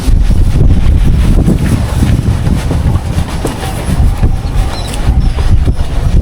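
Strong wind buffeting the microphone aboard a small boat on open water, a loud continuous low roar with gusty swells and faint engine or hull rumble beneath, no voices.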